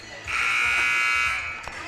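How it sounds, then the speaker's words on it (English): A single long, loud buzzer blares for about a second over crowd noise in a large gym during a high school girls' basketball game. "maybe they'll hear the buzzer"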